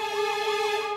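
An emergency siren wails continuously, its pitch sweeping up and down in a steady repeating pattern, loud and close.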